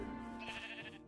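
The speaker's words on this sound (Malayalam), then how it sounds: "ആടുണ്ട്" A goat in the video game Minecraft gives a single short, nasal bleat that wavers over about a second, clear and moderately close.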